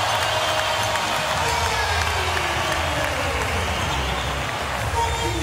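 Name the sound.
basketball arena crowd cheering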